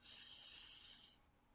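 A slow, deep breath drawn in through the nose, a soft steady airy hiss lasting over a second, close to the microphone in a quiet room, then fading out.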